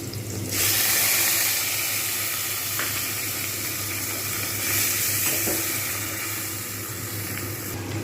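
Ginger garlic paste and water hit a pan of frying onion-tomato masala, setting off a loud, steady sizzle with a burst of steam and faint stirring scrapes that continue unbroken.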